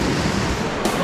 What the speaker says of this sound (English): the bloody crashing off the wave